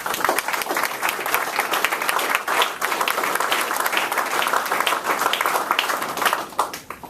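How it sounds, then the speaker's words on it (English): Veterans and audience members applaud themselves in a sustained, loud round of clapping that stays dense and even throughout, with no speech over it. "giving yourselves a round of applause"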